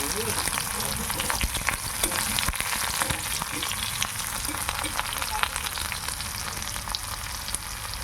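Steady crackling sizzle of onions frying in hot oil, with occasional stirring scrapes, continuous and close throughout.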